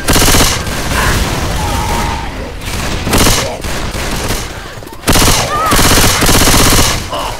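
Rapid automatic gunfire in a video game comes in loud bursts separated by brief pauses, with shouted voices of players mixed in among the shots.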